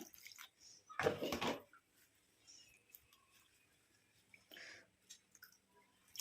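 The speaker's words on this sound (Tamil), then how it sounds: "இப்போ இதில் வந்து தேவையான அளவு தண்ணி ஊற்றி நல்லா வாஷ் பண்ணிட்டு எடுத்துக்கலாம்" Water is poured over hibiscus flowers to wash them, giving a short splashing burst near the start and a softer second splash later, with faint drips and quiet handling noise between and no talking.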